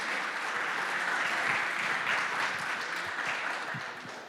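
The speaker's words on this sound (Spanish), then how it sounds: "Yo les pido que lo reconozcamos con un aplauso a ellos." Sustained applause from an audience at a panel discussion or conversatorio, a dense steady wash of clapping that holds at an even level for several seconds before easing slightly at the end.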